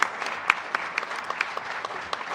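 Applause at a school board meeting for middle school athletes: a roomful of people clapping steadily for a couple of seconds, fairly close, with scattered sharper claps standing out.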